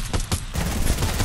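Rapid gunfire bursts in Fortnite, a dense stream of shots rattling loudly and continuously through the brief moment.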